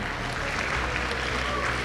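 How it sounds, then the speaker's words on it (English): Audience applause at an esports event, an M6 Swiss Stage match, sustained crowd clapping and cheering as a team takes a final bow, steady and dense throughout without a break. "let us all give a round of applause as Keep Best Gaming give us their final bow"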